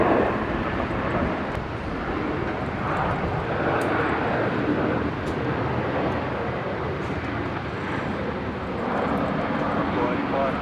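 An aircraft takes off from runway 19 right at Brisbane, a steady, loud, broad roar that holds for the whole stretch, with voices faintly in the background.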